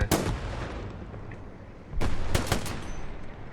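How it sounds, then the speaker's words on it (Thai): Heavy cannon and gunfire in Hell Let Loose: one sharp blast at the start, then a cluster of booming shots after a pause, loud and close, with rumbling battle noise between them and no talk. "เนี่ยเสียงรถถัง"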